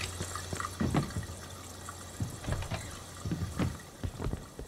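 Water tap running in a clean, modern bathroom in the Mafia II video game, a quiet irregular splashing and trickling with faint drips over low background hum, no voices.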